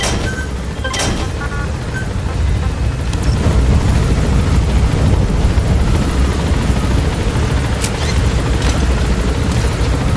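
A helicopter in the video game Metal Gear Solid V gains altitude, its loud rotor and engine roar steady and continuous for about ten seconds, with a few brief clicks over the top.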